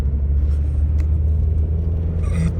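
A VW Beetle with an 01M automatic transmission driving on the road, a steady low engine and road rumble inside the cabin with a faint shift at one point, no talking.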